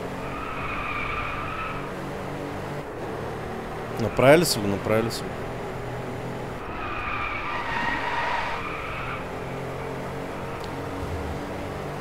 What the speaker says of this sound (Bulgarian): Обаче се пак чуваш ръмжението на двигателя.